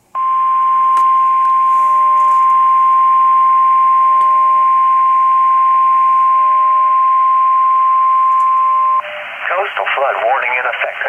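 Emergency Alert System tones for a coastal flood warning, a loud steady electronic two-tone alarm held continuously for about nine seconds before giving way to a spoken broadcast voice.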